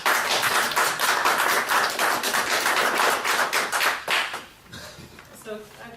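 An audience claps at a formal public hearing on amending Washington's state implementation plan, steady applause that fades after about four seconds, with a voice starting to speak as it dies down.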